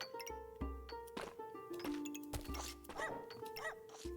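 A cartoonish puppy barks in the video game Backpack Battles, a few short yipping woofs mixed with clinking item sounds and tonal game effects, played fairly quietly.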